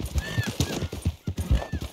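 A horse in the Red Dead Redemption 2 video game, steady clip-clop of hooves up close with a couple of rising, wavering whinnies over the top, no talking.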